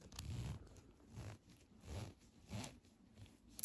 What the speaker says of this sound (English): I don't know if I can actually zip this down with one hand